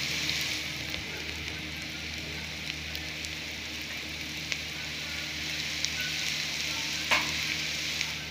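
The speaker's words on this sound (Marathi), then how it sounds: "आता हे कांदा लसूण मिरची भाजल्या." Chopped onion, garlic and chili sizzling in hot oil in a pan, a steady crackling fry with occasional sharper pops and a light stir, heard up close with no talking.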